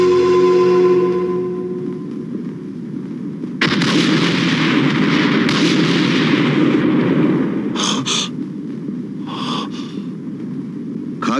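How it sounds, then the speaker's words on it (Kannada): Bomb blasts tear through a godown in a Kannada action film: a loud, sudden explosion erupts into a sustained rumbling roar, punctuated by further sharp bursts, with no voices. "ಶಟ್ ಅಪ್ ಏ ಭಂಡಾರಿ, ಈಗ ನಿನ್ನ ಗೋಡೌನ್ ನನ್ನ ಬಾಂಬ್ಗೆ ಸಿಕ್ಕಿ ಹೇಗೆ ಉರಿದು ಬೂದಿ ಆಗುತ್ತೆ ಅಂತ ಈ ಶಬ್ದ ನಿನಗೆ ತಿಳಿಸುತ್ತೆ."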